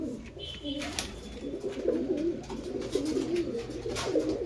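A pair of Kalchina pigeons cooing softly close by in a loft, a run of low, throaty, rolling coos repeating steadily over faint background noise.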